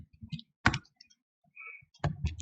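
Quiet computer keyboard typing, a few scattered light key clicks in short bursts with pauses between, faint and close.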